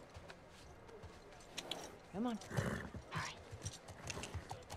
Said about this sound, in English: You got a red horse?